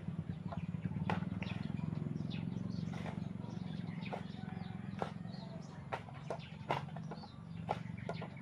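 Backyard chickens cluck and chirp in scattered short calls over a steady low hum, mid-distance, with a person talking nearby.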